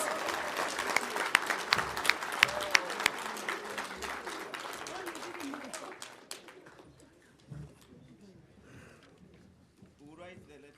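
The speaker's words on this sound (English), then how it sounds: "can we give another round of applause to Her Excellency," A round of applause for President Netumbo Nandi-Ndaitwah at a public servants address, a crowd clapping with sharp individual claps that taper off after several seconds, followed by quieter room noise and a brief voice.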